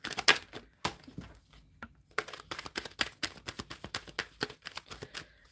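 Tarot cards are shuffled by hand in quick, crisp riffling bursts and papery flicks, close and fairly quiet, with irregular clusters of snaps over several seconds and no voices.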